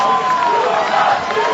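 A German crowd roars steadily at a heavyweight boxing bout between Kubrat Pulev and Tony Thompson, a dense continuous wash of cheering and noise filling the arena.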